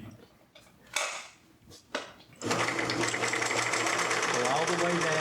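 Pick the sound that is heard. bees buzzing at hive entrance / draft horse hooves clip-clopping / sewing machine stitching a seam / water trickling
sewing machine stitching a seam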